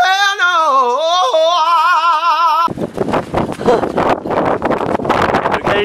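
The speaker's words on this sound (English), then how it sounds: "It's a little windy." Gusty wind buffeting an outdoor microphone, a loud broadband rumble that takes over the second half after a sustained harmonic tone, steady and close with fluctuating bursts.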